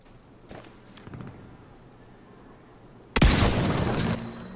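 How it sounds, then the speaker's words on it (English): A .50 caliber sniper rifle fires once in The Division 2, a single sudden loud blast with a long booming tail, following a few faint footstep-like taps. "Check out this one shot on this hunter in the head with the 50 cal sniper rifle."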